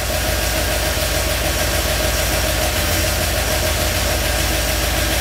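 A Ford F-350 engine fitted with FiTech fuel injection idles steadily after its idle advance is raised, giving a loud, continuous low rumble with no talk over it.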